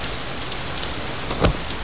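Steady rain falls outdoors, a dense, even patter of drops filling the whole stretch, with one brief louder splash or gust near the end.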